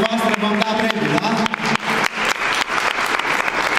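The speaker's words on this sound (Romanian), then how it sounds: "Ceilalți aplaudați și în funcție de aplauzele dumneavoastră vom da premiul" An audience applauds contestants on stage with loud, uneven clapping in waves, partly under a speaking voice early on.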